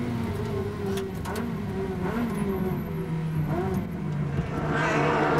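Ferrari race cars at the 2001 Spa Ferrari Days in Belgium scream past near Blanchimont and the Bus Stop chicane, with several high-pitched engines rising and falling one after another against a loud, continuous track roar.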